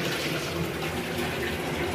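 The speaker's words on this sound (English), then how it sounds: "I had to run it under some water." Tap water runs over a bubble face mask bottle at a sink, a steady close gush of water that stays constant throughout, with no talk.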